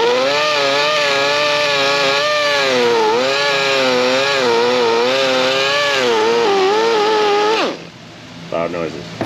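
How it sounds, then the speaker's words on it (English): Cut-off wheel grinding buildup off a caliper bracket on a 2006-2013 Impala LTZ 3.6l, a loud steady high-pitched whine with wavering pitch as pressure shifts, stopping abruptly near the end before a short quieter rattle. "because we can zizz wheel that away"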